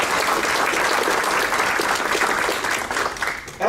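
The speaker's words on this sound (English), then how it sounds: "Let's give them a round of applause." Audience applauding at a school district's distinguished staff awards ceremony, a dense, steady wash of clapping that holds loud for several seconds and then thins slightly toward the end.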